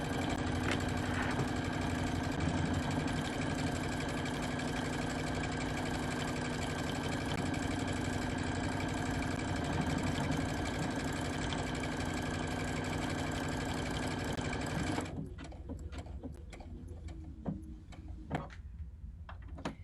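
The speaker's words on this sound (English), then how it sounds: "All I'm going to do is push that button. And let it do its magic." A sewing machine with a button foot stitches a buttonhole in a steady, fast whirring run with rhythmic mechanical ticking, then stops abruptly near the end, leaving faint clicks and handling noise.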